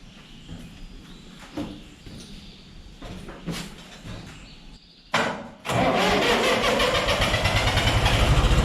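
A tractor's diesel engine, cold and recently repaired, turns over after several quiet seconds, catches with a sudden roar and settles into a loud, steady, rough idle close by.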